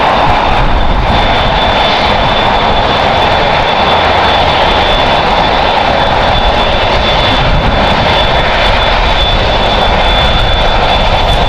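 Airliner jet engines roar at LAX airport, a loud, steady broadband rumble with a high whine running unbroken throughout, no voices over it.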